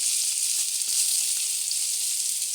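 Onion and salt frying in a pan, a steady bright sizzle that holds at an even level for the whole stretch, close and continuous with no voices over it.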